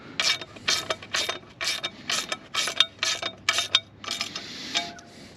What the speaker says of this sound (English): I'll do my finishing tightening with a wrench,